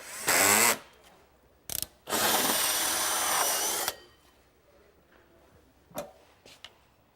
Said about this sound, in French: je fais le logement avec la scie cloche